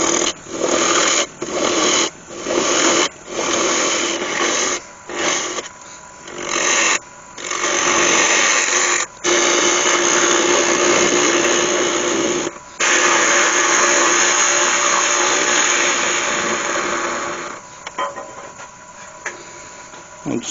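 A woodturning lathe cuts the tenon off a cherry and ash bowl, giving a steady rough scraping hiss broken by several brief pauses between passes, close and fairly loud.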